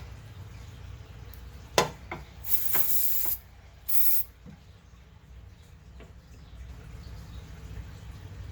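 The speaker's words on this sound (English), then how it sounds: "you can spray some silicone in there" An aerosol can of silicone spray hisses onto an engine hose on a Lexus ES350 or Toyota Camry 3.5 V6 in two short bursts, preceded by a sharp click, against a faint quiet background.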